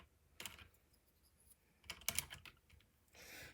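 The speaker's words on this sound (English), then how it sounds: "That one snapped in place." Plastic keycaps click and snap onto a keyboard in a few sharp, quiet, close taps scattered between pauses, with no voices.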